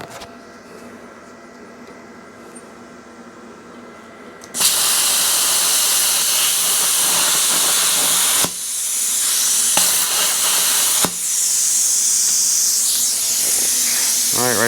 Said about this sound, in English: I'm just going to cut these horseshoes in half